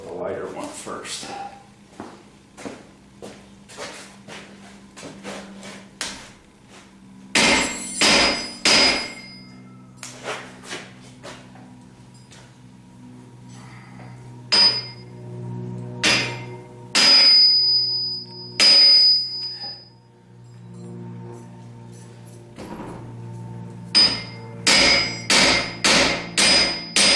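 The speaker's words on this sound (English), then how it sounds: "I'm going to try with a real hammer." Hammer striking a hydraulic cylinder rod during a repair, loud close metallic blows in irregular bursts and rapid runs, some ringing clangs, with quieter tool handling between strikes.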